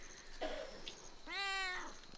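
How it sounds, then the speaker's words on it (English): A domestic cat gives two meows near the border between Thailand and Myanmar, a short faint call followed by a longer, louder, clearly harmonic meow, close by and with no talking. "Hello, cat."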